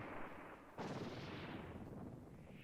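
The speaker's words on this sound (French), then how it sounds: "Il explose. Pouf. J'aime bien cette explosion." A cartoonish explosion from the Kirby and the Forgotten Land video game: a sudden broadband burst breaks over a steady rushing game soundscape and then holds as a dense, roaring wash that slowly settles, with no talk.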